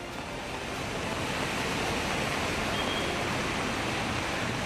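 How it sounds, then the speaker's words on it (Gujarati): Heavy rain pours in strong wind during a downpour in Saurashtra, making a dense, steady roar of hiss and rushing noise that fills the whole stretch without pause and with no talk. "અહીંયા અનેક વિસ્તારોમાં ભારે પવન સાથે ધોધમાર વરસાદ વરસ્યો"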